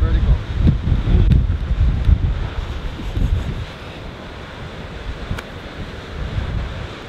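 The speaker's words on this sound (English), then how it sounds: "just try to show you how windy it is outside where we're eating lunch" Strong wind blowing outdoors in Iceland, heavy buffeting rumble against the microphone in loud gusts that ease off midway then build again, with a person talking underneath.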